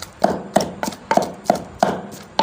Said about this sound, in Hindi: बीफ के कीमे और मसाले को मिक्स करना है।